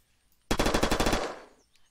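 Rapid automatic burst from the Puck pistol in the video game Unturned, about ten close, loud shots in quick succession lasting under a second, followed by a short decaying tail, with no talk.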